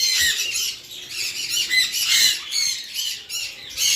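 Gouldian finches squawk in loud, repeated bursts while being caught by hand and moved toward breeding cages, the harsh calls overlapping almost continuously with no talk.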